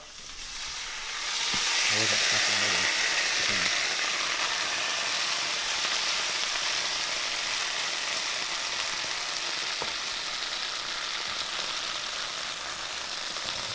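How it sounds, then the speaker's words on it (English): A loud, steady sizzle of potatoes frying in hot oil, starting with a splash and settling into a continuous crackling hiss. "So we're about to throw them in now. There you go, it's gonna sizzle."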